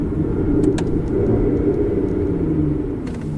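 An Aston Martin Vanquish drops rapidly from fourth gear to first, its engine giving a steady, loud low rumble with slight shifts in pitch, heard up close without any talk.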